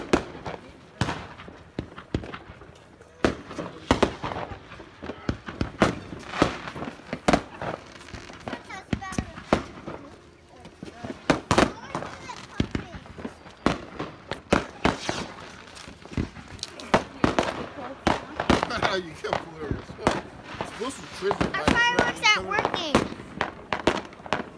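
Fireworks and firecrackers go off outdoors in a long series of sharp, loud pops and crackles at irregular intervals, with a denser burst near the end and people, including children, talking between the bangs.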